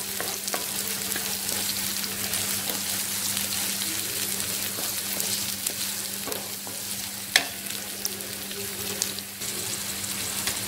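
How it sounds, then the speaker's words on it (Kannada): Potato sandwich filling frying in a pan with tomato added, a steady close sizzle with faint stirring scrapes and a couple of brief clicks throughout. "ಇದು ಚೆನ್ನಾಗಿ ಫ್ರೈ ಆಗಿದೆ, ಇವಾಗ ಟೊಮೆಟೊ ಹಾಕೋತಿದ್ದೀನಿ।"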